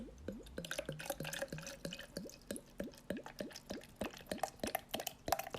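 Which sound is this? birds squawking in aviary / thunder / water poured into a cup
water poured into a cup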